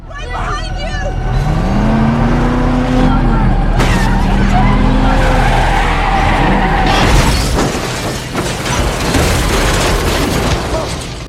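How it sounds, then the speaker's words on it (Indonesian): Movie multi-car pileup as a car driven recklessly causes a chain collision: tyres screech, then booming impacts and shattering, loud and dense throughout, with a voice speaking over the chaos. "Akibat ulahnya itu, terjadilah kecelakaan beruntun yang memakan banyak korban."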